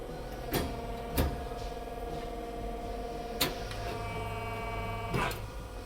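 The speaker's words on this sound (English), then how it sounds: "the corner brackets and everything can be bent with total precision on a machine like this" A sheet metal bending machine runs on a factory floor making corner brackets, a steady mechanical hum broken by four sharp clanks spaced a second or two apart.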